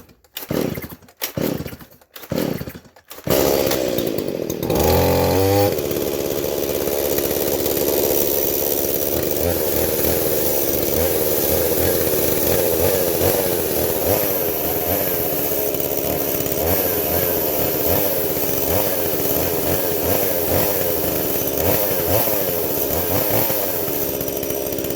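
A tractor engine is cold started with the choke on. A few loud cranking bursts come first, then it catches and settles into a loud, steady, rattling run close by, with no voices.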